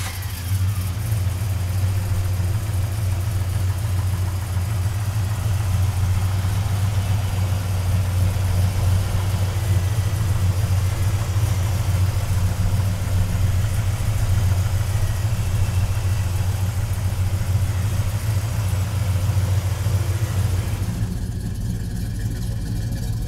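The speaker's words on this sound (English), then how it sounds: "let's fire this El Camino up" A 1969 Chevrolet El Camino with a big block V8 idles steadily and loudly for a long stretch, a deep continuous rumble that cuts off abruptly near the end.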